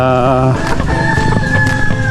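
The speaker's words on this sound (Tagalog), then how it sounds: "Manok." Free-range backyard chickens being moved from their coop, a rooster's drawn-out crow followed by close, loud clucking and calls from several birds, with a brief voice nearby.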